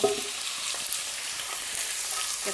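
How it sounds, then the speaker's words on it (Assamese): Duck meat frying in a pan, a continuous close sizzle and hiss with occasional faint stirring clicks and small spatters, no voices. "হাঁহৰ মাংস বনালে বহুত ভাজিব লাগে"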